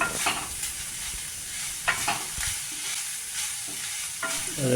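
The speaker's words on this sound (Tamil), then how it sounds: "சேர்த்து நல்லா கலந்து விட்டுக்கலாம். அதுவும் கலந்து விட்டு நல்லா வதங்கட்டுங்க." A fish mixture for Ceylon egg fish paratha is stirred and sautéed in a pan, giving a soft continuous sizzle with repeated scraping strokes of a spoon at intervals.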